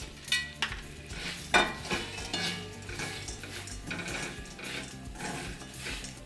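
A spoon stirs chili powder into fried peanuts and coconut in a metal pan, giving soft scraping and irregular clinks and taps of metal on metal, close but fairly quiet, no voices.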